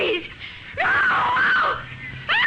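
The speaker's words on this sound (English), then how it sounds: "A woman screamed and cried for help on the Wayfield Common" A woman screams in terror in a radio drama, a long, loud, wavering cry rising after a brief pleading sob, then breaking into a fresh scream at the end.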